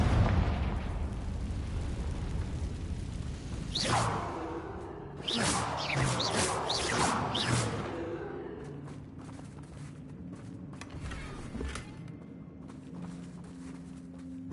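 Confringo fire-spell blasts in Hogwarts Legacy: a few loud crackling explosive bursts early on, then a low rumbling tail fading into quieter ambient game sound.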